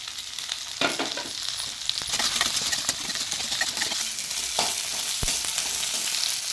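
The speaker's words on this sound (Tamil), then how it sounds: "சின்ன வெங்காயம் நல்லா வணங்கி வர வரைக்கும் வதக்கலாம் கூடவே இந்த பூண்டு வரமிளகாயும் சேர்த்துக்கலாம்" Shallots, garlic and dried red chillies sauté in a clay pot, giving a steady, close sizzle with occasional sharp clicks of stirring and no voices.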